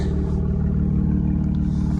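2017 Camaro engine and exhaust with aftermarket exhaust mods, a steady low, even rumble with a pulsing idle-like rhythm, close and continuous without revving.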